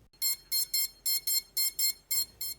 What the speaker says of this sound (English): push the crash mode selector switch up to position 0, push it away, and you should hear the beeper.